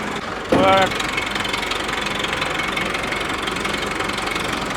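A steady engine drones throughout at constant loudness, with a brief harsher burst near the start; no voices.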